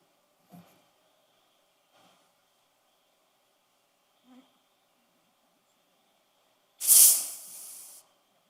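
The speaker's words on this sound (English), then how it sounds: "Toma acá el spray." An aerosol spray can lets out one loud, close hiss of about a second after a few faint clicks and knocks in an otherwise quiet room.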